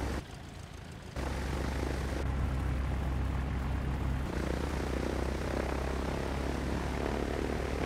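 A Cessna light aircraft taxiing in Microsoft Flight Simulator X, its propeller engine droning loud and steady with a constant rumbling hum that holds throughout.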